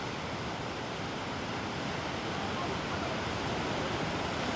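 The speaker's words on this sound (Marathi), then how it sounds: "निलेश खडकवासलामधून हा विसर्ग नदीपात्रामध्ये वाढवण्यात आलाय" Dam water released from Khadakwasla, near Pune, rushes into the riverbed after heavy rain: a loud, steady, broadband roar with no breaks and no voices.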